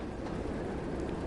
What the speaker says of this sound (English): The locomotive is on the move.